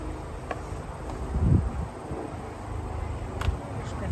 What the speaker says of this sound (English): The sound level has definitely increased in the hive.